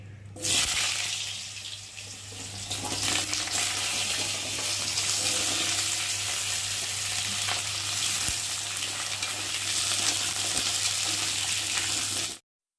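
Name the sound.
potatoes frying in hot oil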